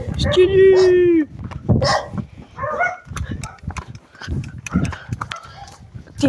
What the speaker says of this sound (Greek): Σκύλι!